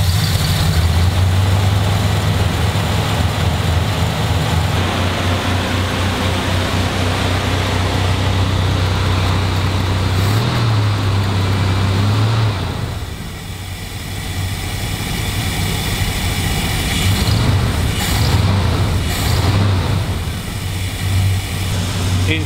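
A Dodge Coronet with an automatic choke runs loudly and steadily up close, a constant low idle rumble that dips briefly partway through before settling again, with no talking.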